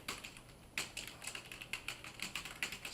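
Steady typing on a computer keyboard, a rapid run of crisp close key clicks in an irregular rhythm over quiet room tone, with no talk.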